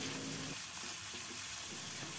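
Oil sizzles and crackles steadily as an egg fries in a pan for Mie Aceh, a close, continuous hiss with faint stirring scrapes.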